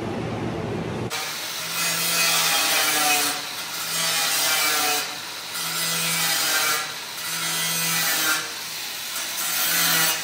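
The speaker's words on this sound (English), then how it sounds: "We're going back to the old grinder." An old, rusty angle grinder works on a mouse trap, its steady high whine running continuously with rhythmic surges in loudness as it bears down on the metal.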